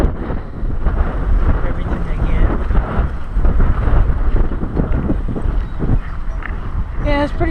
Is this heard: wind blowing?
yes